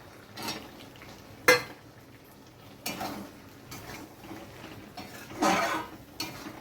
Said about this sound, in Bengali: চিংড়ি মাছগুলো দিয়ে আমি সবজির সঙ্গে ভালোভাবে মিশিয়ে নিচ্ছি।